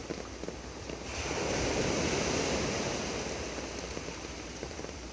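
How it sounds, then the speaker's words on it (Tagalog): Rough sea waves after strong wind and rain, a broad roaring wash of surf that swells and holds steady, with wind buffeting the microphone and no voices. "Mga galit yung mga alon."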